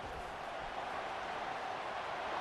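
A football stadium crowd roars in a continuous, dense wash of noise, distant and steady, with no clear individual voices standing out.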